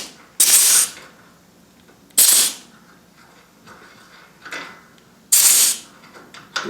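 Short bursts of grease spray aimed at a broken Exmark/Toro mower front wheel caster shaft, three sharp hissing blasts of about half a second each, close and loud, with quieter rustling between them.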